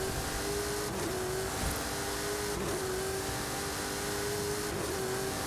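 The Funko car accelerates in a racing video game, a sustained synthetic engine tone with brief rising rev surges every couple of seconds against a constant background of game noise.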